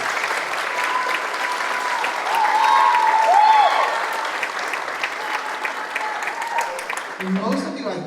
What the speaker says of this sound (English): Could you guys give them one more round of applause?